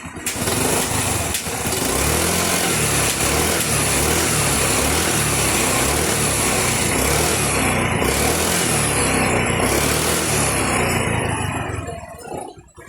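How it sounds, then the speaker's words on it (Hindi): A Honda Activa scooter engine idles with its body panels removed, giving a loud, steady, buzzing small-engine drone that continues without a break for nearly thirteen seconds, close to the listener. "स्कूटी के इंजन की आवाज़ अपनी आइडल पे खड़ी है"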